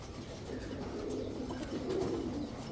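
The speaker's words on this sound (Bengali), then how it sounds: "এটা হচ্ছে একটা নর কবুতর, হিউজ সাইজের একটা নর, ব্ল্যাক শ্যাডেল পাইট।" Soft continuous cooing from a large black shadel pied male high-flyer pigeon, a low rolling murmur with no voices.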